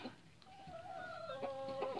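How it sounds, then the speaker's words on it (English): A hen, probably a Cornish cross meat chicken, gives soft, drawn-out clucking and warbling calls close by, quiet and steady over faint background noise. "Not really sure it's a meat chicken."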